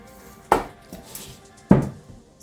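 Cupcake scoop clinking against a mixing bowl while scooping dairy-free vanilla batter, two distinct metallic knocks with a softer tap between, close and moderately loud.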